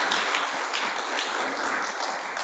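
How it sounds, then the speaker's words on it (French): An audience at an annual general meeting applauds after a presentation, a full, continuous burst of many hands clapping at moderate loudness. "je crois qu'on peut l'applaudir pour cette intervention"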